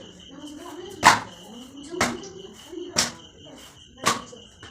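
A mughlai paratha is beaten flat in a pan with four evenly spaced sharp slaps about a second apart, close and distinct over a faint steady background hum.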